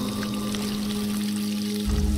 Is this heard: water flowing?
yes